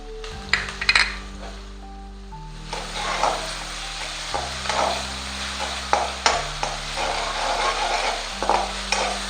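Ginger garlic paste going into hot oil with golden-brown onion for pav bhaji, a steady close sizzle and frying hiss with repeated stirring scrapes and metal clinks of a spoon against the pan, no talk.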